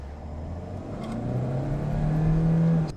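A 2012 Hyundai i20 pulls away from a start, its engine note rising steadily in pitch and loudness over a few seconds before easing off, heard from inside with no talking.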